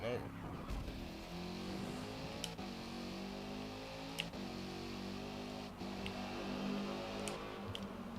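A race car in Forza Motorsport roars through a tunnel, its engine a steady, sustained drone with rising and falling gear tones and a few sharp ticks, while a voice talks over it.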